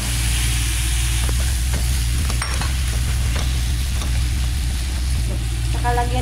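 Shrimp and chopped tomatoes sizzle steadily in a hot frying pan while being stirred, with a continuous close crackle and a faint voice now and then.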